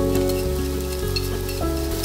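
Ginger slices, minced garlic and onion stir-fried in a little oil in a hot pot: a steady, continuous sizzle runs throughout, with tonal backing music underneath.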